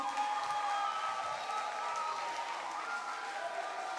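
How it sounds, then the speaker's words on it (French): Audience applause at a live show for Daisy Dokui: steady, fairly faint clapping and crowd noise held for the whole stretch, with a few cheers mixed in. "Est-ce qu'on peut applaudir pour elle?"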